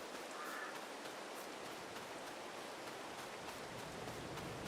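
Rain falls steadily in the Steel Horse video game, a soft, even hiss of broadband noise that stays faint and unchanging for the whole stretch.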